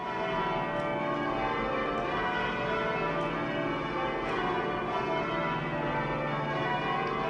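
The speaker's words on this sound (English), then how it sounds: "When we pull the bell, and it swings in a complete circle around" Dense, continuous pealing of change-rung bells at the National Cathedral, swinging full circle and overlapping in a steady tumbling pattern, loud and reverberant, with no voices.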